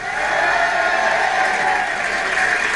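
Studio audience on a French television variety show greets a musician with steady, dense applause and cheering, a continuous wash of clapping held at an even level for the whole stretch.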